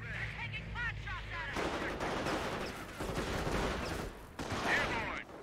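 Gunfire crackles through a Company of Heroes battle on a wrecked-train map, with rapid overlapping shots and bursts forming a dense, continuous fusillade after a brief quieter opening.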